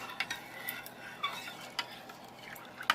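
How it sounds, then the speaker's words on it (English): A spoon stirring soup mix into onions and green pepper in a pan, with soft scrapes and scattered light metallic taps against the cookware, close and fairly quiet. "I'm going to stir that soup mix in to get that good."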